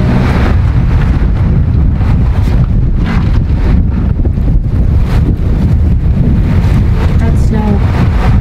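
Strong, gusty wind buffets the microphone outdoors in cold, snowy weather beside a smokehouse, a loud continuous low roar with swelling gusts throughout; a voice is faintly present.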